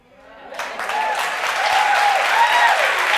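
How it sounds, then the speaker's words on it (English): Audience applause fills a tech summit hall, rising quickly from near-silence into sustained, dense clapping that holds steady and loud to the end, with a voice faintly audible beneath it. "I really love all this applause"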